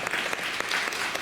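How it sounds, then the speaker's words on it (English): Steady applause from a live audience at a Halloween mentalism show at a Six Flags theme park, a dense wash of clapping hands that stays even and fairly loud throughout. "Give yourselves a big round of applause for being smart enough for being here."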